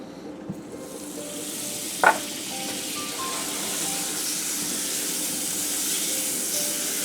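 Butter sizzling in a hot pan at medium-high heat: a steady, close frying hiss that runs the whole way through, broken by one short clatter near the start.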